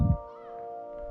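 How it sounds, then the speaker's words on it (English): A pet cat gives a single short meow at the start, faint and somewhat distant, followed by a steady tonal background hum. "Yeah, I hear my cat."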